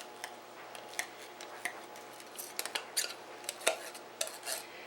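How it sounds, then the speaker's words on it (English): Spoon scraping and clinking against a can and dish while canned pork and beans are spooned onto raw ground chuck, a series of soft irregular taps and scrapes, close and quiet. "I'm putting the pork and beans on top of the raw hamburger"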